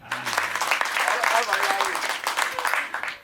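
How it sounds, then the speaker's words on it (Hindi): An audience at a comedy show bursts into dense, lively applause that swells and stays loud for a few seconds, with a voice speaking briefly at the start. "ताली बजाओ एक बार।"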